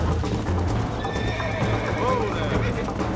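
A horse in the Red Dead Redemption video game neighs and gallops with rapid clip-clopping hoofbeats, close and loud, while a voice speaks over it.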